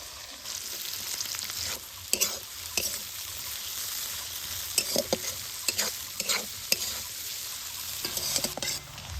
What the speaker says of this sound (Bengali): এবার ওই মাছ ভাজা তেলতে দিয়ে দিব হচ্ছে পেঁয়াজ কুচি